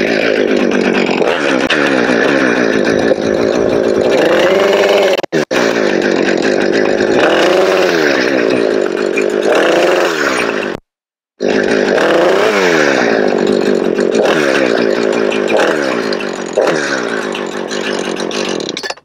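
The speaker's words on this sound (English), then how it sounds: "I'll start the saw again and cut my load." A chainsaw roars loudly and steadily, its pitch rising and falling as it revs, with a brief cut-out midway before it starts up again.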